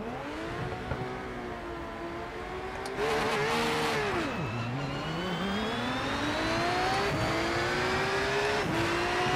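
A Porsche GT3 race car howls around Imola in the sim racing game Rennsport, its engine note climbing through the gears, dropping sharply under braking near the middle, then revving back up, loud and steady with no talk over it.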